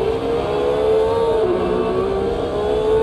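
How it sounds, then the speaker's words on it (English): A 1970s Formula 1 car engine in Automobilista 2 at Imola, a steady, loud high-pitched engine whine holding roughly even revs with slight pitch wavering, alone without voices. "That's nice engines,"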